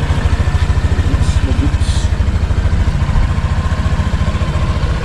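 A white 2025 Honda Click 125 V5 scooter idles close by, its engine putting out a steady, even chug of rapid low pulses throughout, loud and alone with no talking.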